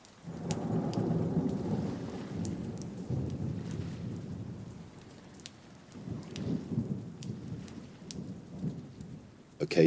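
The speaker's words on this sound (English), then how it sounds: "Occasionally, you might hear a thunderstorm" Thunderstorm with steady rain: a deep rolling rumble of thunder swells and fades twice under the continuous hiss of falling rain, with no voices.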